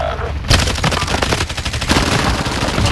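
Rapid automatic gunfire from the Warzone battle royale game on Rebirth Island, loud continuous bursts starting after a brief quiet moment and carrying on steadily throughout.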